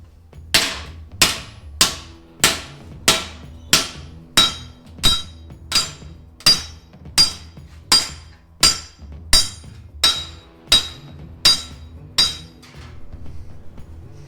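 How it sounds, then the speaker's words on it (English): Hammer blows flattening a metal sedan roof frame on an anvil, about fifteen sharp ringing metallic strikes at an even, steady rhythm, loud and close, with no talking. "we'll start by knocking these out flat using the anvil"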